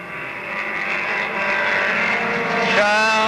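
Oval-track stock cars at Monadnock Speedway, including a Toyota, roar past in a sustained high engine drone that rises slightly and shifts pitch near the end, fairly close and steady with no talk over it.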